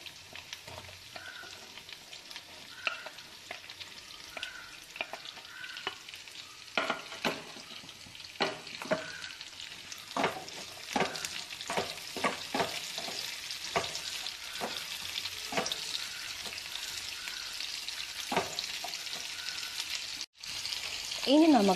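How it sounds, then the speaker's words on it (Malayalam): Onions sizzle steadily in hot oil for chilli prawns, with repeated scraping stirs of a spatula against the pan cutting through the continuous frying hiss, close and fairly loud. "ഇനി ഇതിലേക്ക് നമുക്ക് സവാള ആഡ് ചെയ്ത് കൊടുക്കാം"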